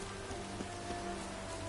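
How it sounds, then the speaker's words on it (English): Rain in The Witcher 3 video game: steady, dense rainfall hissing on surfaces, a soft continuous wash with faint pattering throughout. "Looks like rain."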